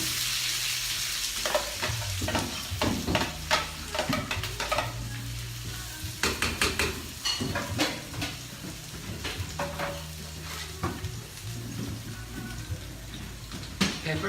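Chopped onion sizzles steadily in a hot pan as the base for paella, with a constant close fry under repeated scraping and stirring strokes from a utensil.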